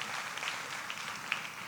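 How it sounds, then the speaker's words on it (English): An audience at a Charleston forum event applauds in a steady, dense wash of clapping, moderately loud and continuous throughout. "Give yourself a big round of applause."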